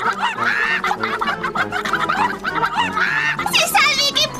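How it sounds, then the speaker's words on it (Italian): Chickens clucking and squawking excitedly, close and busy, mixed with animated voices. "Non ti preoccupare, Piggy, mi occupo io delle galline"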